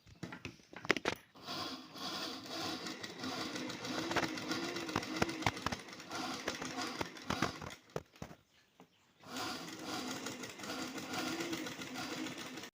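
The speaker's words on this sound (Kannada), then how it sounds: "ಇದು ಎಡ್ಜಲ್ಲೇ ನಾವು ಸ್ಟಿಚ್ಚನ್ನು ಹಾಕಬೇಕು." A sewing machine stitching along the edge of an embroidered blouse, running in a steady whirring, clattering stretch, pausing briefly near the end, then starting again, close and moderately loud with no talk.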